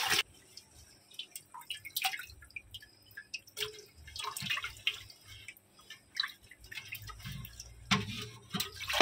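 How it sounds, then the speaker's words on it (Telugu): Small fish being rinsed and cleaned in water, with irregular drips, splashes and trickling under a steady background, no talking. "ఫస్ట్ ఆఫ్ ఆల్ మొత్తం వాటర్ వేసేసి క్లీన్ చేయండి."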